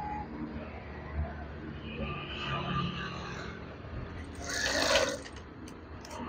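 A sewing machine stitches along a folded fabric curtain, a faint mechanical whir that rises briefly to a louder burst near the end, with a voice talking over it.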